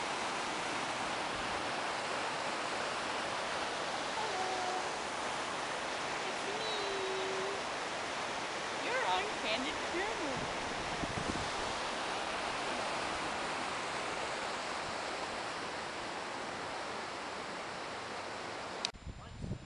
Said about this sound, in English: Here is the waterfall coming from there.